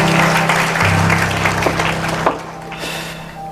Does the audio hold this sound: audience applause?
yes